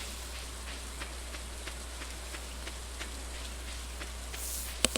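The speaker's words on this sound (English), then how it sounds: "Abigail, what are you doing out in the rain?" Steady rain falls in the Stardew Valley video game, a soft, even hiss of drops with faint scattered ticks, a quiet constant patter running alone with a couple of sharp clicks near the end.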